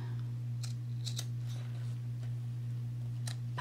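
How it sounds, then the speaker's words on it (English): Scissors trimming the tails of a tied ribbon: a few small, faint snips in quick pairs over a steady low electrical hum, close by and quiet. "now I can just trim the tails and have them be even"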